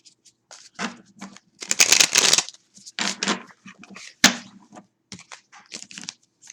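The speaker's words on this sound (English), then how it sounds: "So let's shuffle." A deck of tarot cards is shuffled up close in quick, crisp bursts of riffling and slapping, separated by short pauses, with no talking.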